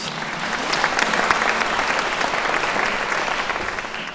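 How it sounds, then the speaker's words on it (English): Audience applause follows a piano and trumpet performance at a literary festival evening, a steady, dense round of clapping from a sizeable crowd, even in level throughout with no talk. "Yes, I think that deserves an applause."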